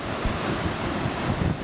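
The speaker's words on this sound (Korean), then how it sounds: "2014년 8월 초 아이슬란드 굴포스 입구입니다." Gullfoss waterfall in Iceland, heard near its entrance in early August, gives off a loud, constant broadband roar, close and unbroken for the whole moment.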